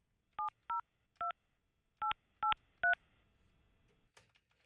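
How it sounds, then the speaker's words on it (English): Touch-tone telephone dialing, six distinct keypad beeps in an uneven rhythm, clear and close, with no voices. "let me get Miki Sudo on the phone."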